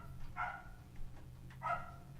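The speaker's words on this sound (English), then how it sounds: "That is the throw the ball, throw the ball, throw the ball bark." A dog barks in short, distant, fairly faint bursts, two or three yips spaced over a couple of seconds, as it urges someone to throw a ball.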